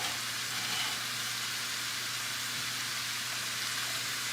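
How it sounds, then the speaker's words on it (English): Chopped shallot and mushroom stems sauté in a hot pan over medium-high heat, giving a steady, even hiss of sizzling throughout with no talking. "this is going to saute on a medium-high heat just until the stems are softened"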